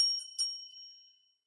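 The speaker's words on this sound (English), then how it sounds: "hit the notification bell." A bright bicycle-bell style notification chime rings twice in quick succession and then fades out, clear and alone.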